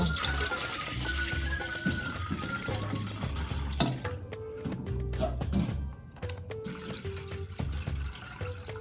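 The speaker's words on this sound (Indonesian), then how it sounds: "Oke, pertama kita rebus air dulu." Water poured from a tap into a cooking pot for boiling, a steady running splash with a few thunks of the pot and faint background noise, no clear talking.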